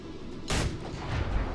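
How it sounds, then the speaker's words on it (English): A cannon fires once in the LEGO DC Super Villains Aquaman DLC level, a sudden loud broadband boom that cuts in after a quiet stretch and leaves a rumbling tail. "Is that cannon?"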